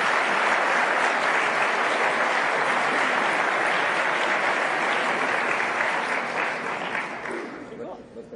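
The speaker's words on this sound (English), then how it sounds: "So please give a round of applause to Allison and Lee" Audience applause fills an auditorium at a lecture event, a steady dense clapping that holds loud for several seconds and then tapers off near the end.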